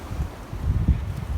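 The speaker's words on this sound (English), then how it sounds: "Quite windy today," Soft wind gusting through a cactus and succulent garden beside the sea wall in Antibes, a low rumbling rush with a couple of stronger puffs, fairly quiet and without voices.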